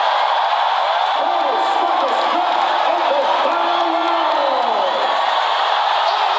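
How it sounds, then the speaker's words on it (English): A Manila arena crowd roars for Kevin Belingon during his ONE Championship interim bantamweight title fight against Martin Nguyen, a loud, sustained cheer with whoops, and a commentator's voice rising over it. "This crowd trying to rally Belingon home."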